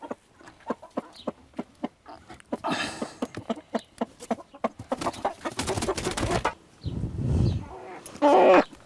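A hen clucks repeatedly in a cage, sharp rhythmic calls close by, rising to a louder squawking burst near the end.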